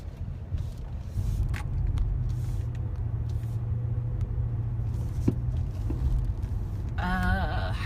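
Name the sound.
inside a car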